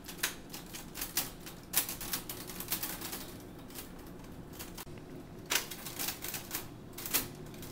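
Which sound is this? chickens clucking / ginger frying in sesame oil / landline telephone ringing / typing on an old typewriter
typing on an old typewriter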